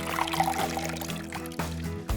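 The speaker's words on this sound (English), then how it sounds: "To freshen up stale buns, start by pouring water over it." Water pours steadily over a stale bun in a kitchen, a soft continuous trickle and splash lasting a couple of seconds.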